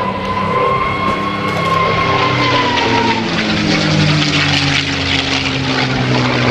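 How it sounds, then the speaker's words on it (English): Merlin V-12 engine of a P-51 Mustang at a military airshow at NAS Oceana, roaring loud and steady with a droning propeller hum and a gradually shifting pitch as it passes. "I just wanted you to have a chance to hear the incredible sound of this Merlin engine."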